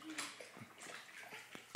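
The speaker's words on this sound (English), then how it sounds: "I think it's time to be washing him in like a bathtub" A dog being washed in a bathtub: close splashing and sloshing water with scattered drips and knocks, irregular and fairly quiet, with no talking.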